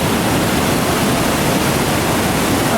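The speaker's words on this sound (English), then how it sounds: "See the water coming down there." The Silver River Falls waterfall in Skanee rushes steadily as a dense, broadband roar, close and loud, with no break and no voices.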